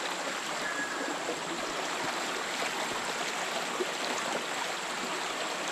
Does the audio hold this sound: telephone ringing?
no